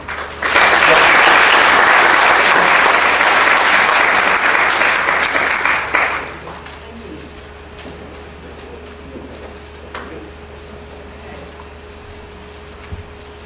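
An audience applauds at a 2007 talk on elder fraud and abuse, welcoming Judge Holly Spencer Jackson: loud, dense clapping for about six seconds, then a quiet room hum with faint scattered sounds.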